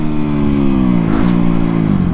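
A motocross dirt bike engine runs loud and close, holding a steady droning rev with slight pitch dips as the rider moves over the track.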